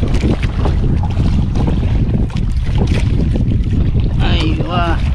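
Strong monsoon wind roars at sea aboard a small fishing boat on a long-line trip in the Philippines, a loud, constant buffeting rush that blows into the microphone, with hull and water noise underneath.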